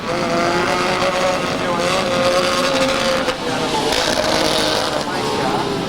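Vintage speedcars, including the Jack Brabham 28 car, race at a 1999 Speedway Nationals exhibition at the Exhibition Grounds in Brisbane. Their engines drone loud and continuous with shifting pitch, under a commentator's voice.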